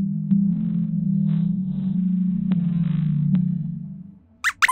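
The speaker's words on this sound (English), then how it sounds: "Here's what a blue whale's song sounds like." Blue whale song, heard as a long, low, steady moan that holds for about four seconds and then fades, followed by two brief higher chirps.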